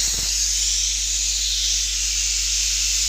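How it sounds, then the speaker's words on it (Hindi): A pressure cooker cooking rajma hisses steam after its whistle, a loud, steady, close jet of hiss that goes on unbroken after a brief knock at the start. "सीटी बज चुकी है"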